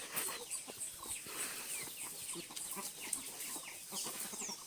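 Busy clucking and high peeping from several young chickens on a farm, some of them fighting, with scattered sharp calls over a constant farmyard chatter.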